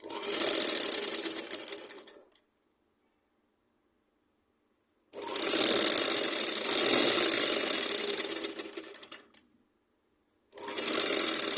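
A sewing machine stitches a petticoat hem in three loud bursts of fast, steady whirring, separated by silent pauses, with no talk.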